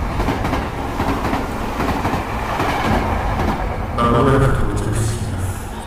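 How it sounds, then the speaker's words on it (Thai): A train rolls past close by with a continuous loud rumble and rhythmic wheel clatter, the rattle and screech brightening toward the end. "ไปแล้วครับรถไฟแห่งมรณะมันไปแล้วครับ"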